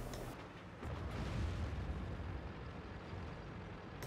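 An artillery shell explodes in a tank video game on the Siegfried Line map, a low rumbling boom that rolls on and slowly fades, with a brief sharp crack near the start.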